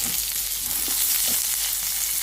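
Pirandai, the adder's-ledge vine, frying in oil for a chutney, with a steady close sizzle running the whole time and a few faint stirs.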